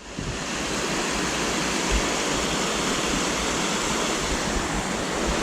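A loud, continuous rush of fast-flowing stream water running high after rain in the Lake District, steady and close, with no voices.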